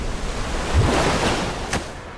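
Ocean waves surge and wash in the game Death Stranding, a steady rushing roar with a swell of surf building and fading, fairly loud with wind-like noise and no speech.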